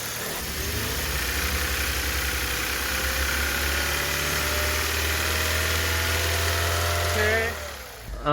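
A Hyundai Avante HD engine idles steadily with a low rumble and a faint metallic rattle from poor oil maintenance, running close by until it briefly revs near the end.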